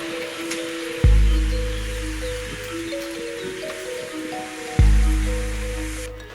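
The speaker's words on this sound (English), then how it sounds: "here's the proof that it does rain in Spain" Steady rain hisses outdoors in Spain while an olive bonsai (Olea oleaster) is repotted. A continuous soft wash of drops sits under musical tones, with two sharp thuds standing out.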